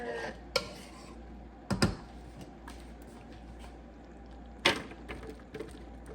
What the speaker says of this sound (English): I'm going to go ahead and give them another little stir.